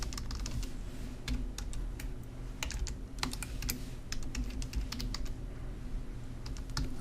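Fast, steady typing on a computer keyboard, with crisp individual key clicks in quick bursts and brief pauses, close and clear over a faint low room hum, with no talking.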